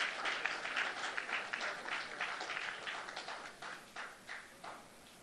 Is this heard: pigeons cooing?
no